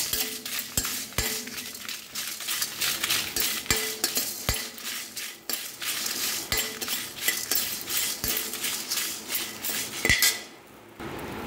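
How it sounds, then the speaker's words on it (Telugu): Spices dry-roasted in a pan with salt, stirred steadily so the spoon clinks and taps sharply against the metal in a busy, close rhythm over faint sizzling. "ఇవి బాగా వేయించుకోవాలి"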